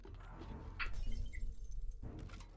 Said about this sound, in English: it sounds like they're smashing glass